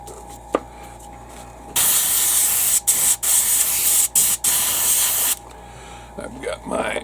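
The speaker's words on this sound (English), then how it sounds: "Spray out the rest of that in there." An airbrush blasts out leftover paint into a pot during interior painting of a 1/72 Airfix B-17G model, a loud steady hiss broken by a few brief stops, with quiet sounds before and after.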